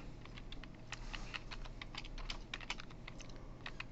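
Students typing on computer keyboards during a programming lecture on arrays, rapid irregular clicking of keys, close and steady throughout, with no voices.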